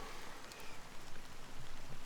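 Steady rain falling in a Honkai: Star Rail cutscene, an even, hissing wash of drops with no talk over it, moderate in level throughout.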